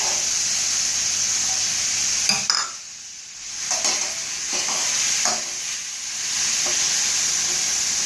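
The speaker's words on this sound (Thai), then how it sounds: "ต้องรอให้ปลาหมึกมันผัดสักพัก" Squid stir-fried in a pan for seafood fried rice, a steady loud sizzle with brief scraping stirs, dipping quieter for a few seconds midway before the frying hiss swells back.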